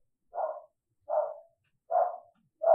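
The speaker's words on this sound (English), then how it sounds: "Listen to my dog bark." A dog barks four times at evenly spaced intervals, each bark short, mid-pitched and fairly close, with silence between them.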